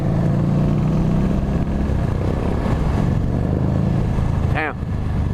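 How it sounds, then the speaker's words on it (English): Motorcycle engine riding through Coney Island in Brooklyn, a steady loud close drone with slight revving, then a brief horn-like chirp near the end. "I hear his bike, but it's like it feels like something else."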